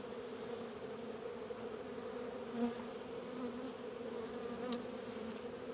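Honey bees drone around an open hive during an early-season hive check, a steady, close, continuous buzz with no talking over it.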